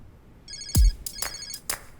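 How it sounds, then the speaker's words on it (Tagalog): A mobile phone ringtone chimes in bright, repeating electronic bursts with sharp attacks roughly every quarter to half second, fairly loud and close, with a low thump near the start and no talk over it. "Sir, nagre-ring yung phone niyo."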